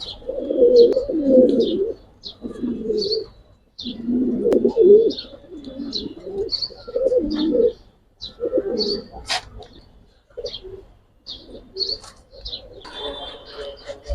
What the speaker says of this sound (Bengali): এটা কিন্তু আমার নিজস্ব ঘরের কবুতর ভাই